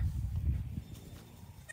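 Goats bleat faintly while being fed elephant-apple peels, soft low calls over quiet background rustle within a couple of seconds.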